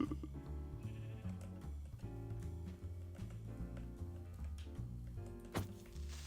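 Sheep bleat in Minecraft: short, wavering bleats close by over steady background tones, with no voices.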